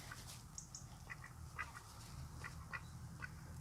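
A duck being hand-fed on a smallholding quacks in a few short, close, fairly loud bursts over steady low outdoor background noise, with no talking.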